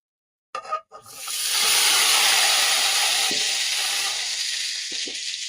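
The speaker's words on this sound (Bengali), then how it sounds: "এখন আমি সিদ্ধ করা আলুটাও ভেজে নেব।" Boiled potatoes drop into hot oil with a few quick splashes, then a loud, continuous sizzling hiss builds and holds close by, with occasional faint clinks as the frying goes on.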